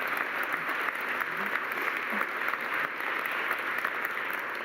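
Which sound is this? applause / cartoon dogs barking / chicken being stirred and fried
applause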